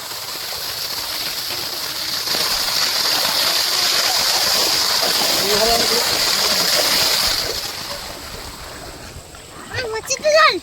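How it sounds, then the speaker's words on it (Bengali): Water gushing forcefully across the ground while someone sweeps it along with a broom, a loud steady rush that eases off toward the end. Voices talk over it. "কত জোরে জল যাচ্ছে দেখো"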